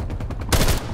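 Gunfire in Call of Duty Black Ops Cold War during a team deathmatch or hardpoint match: a run of rapid, evenly spaced shots, then a louder, denser burst up close before it drops back to steady firing.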